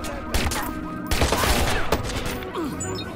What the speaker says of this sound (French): tout le monde se retourne et me tire dessus